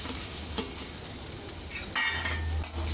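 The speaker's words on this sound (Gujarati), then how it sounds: "અડધી ચમચી જેટલું ઘી મૂકવાનું અને આપણે જે નાળિયેરની છીણ કરી હતી એ લઈ લઈશું" Grated coconut sautéing in about half a spoon of hot ghee in a pan gives a steady soft sizzle, with scraping stirring strokes and brief utensil clinks throughout.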